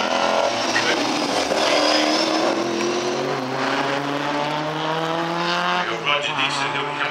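A Mustang rally car races past at a tarmac rally event, a loud engine note rising and then falling as it goes by, with a brief tyre squeal and some voices underneath.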